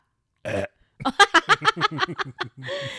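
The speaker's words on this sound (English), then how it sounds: "definitely gonna burp" A man burps loudly after drinking carbonated water, a short throaty belch followed by a run of rapid chuckling bursts and a final rough exhale, all close to the microphone.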